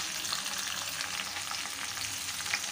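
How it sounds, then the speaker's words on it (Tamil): Cut okra frying in hot oil in a kadai gives a steady, dense crackling sizzle that holds evenly through the whole stretch, close and moderately loud, with no one speaking. "எண்ணெய் வந்து நல்லா ஹீட் ஆனதுக்கப்புறம் பாருங்கள், கட் பண்ணி வச்ச வெண்டைக்காயை சேர்த்துடலாம்"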